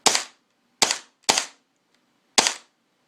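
A KSC HK33K airsoft rifle fires four single semi-automatic shots, sharp loud cracks with irregular gaps and near silence between them.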